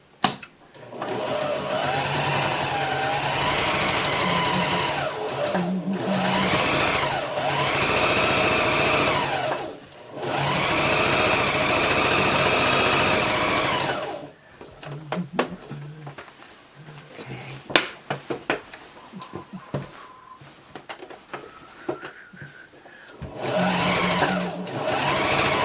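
A sewing machine stitching fabric for a herringbone layout, running in long steady whirring bursts that stop and start as the needle pivots, with quieter handling noises in the pauses.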